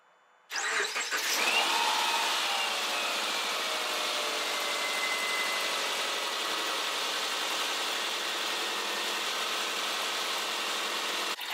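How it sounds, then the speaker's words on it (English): A 2010 Subaru Impreza engine cranks and catches after a moment of quiet, then settles into a steady, fairly loud idle with a smooth continuous hum and no talking, just after new drive belts were fitted. "Let's start the car."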